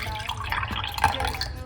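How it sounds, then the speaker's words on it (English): Lemon juice trickles and drips into a cup in a short pour, close up, with faint background murmur. "So we're going to pour the lemon juice"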